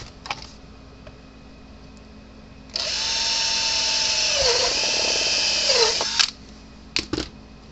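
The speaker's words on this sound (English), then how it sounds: "Actually, I need to drill 2 holes." Close, loud power drill whine cuts through the case of an old Gallagher BEV3/M800 fence energizer in one steady run of about three and a half seconds, followed by a couple of quick clicks.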